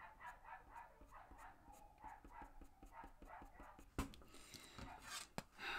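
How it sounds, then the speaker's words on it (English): Neighbouring dogs bark next door in a rapid run of short, repeated yaps, moderately loud and slightly distant, continuing through most of the stretch with a few sharper knocks near the end. "You can probably hear next door's dogs"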